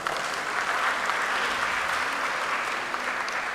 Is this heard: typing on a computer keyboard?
no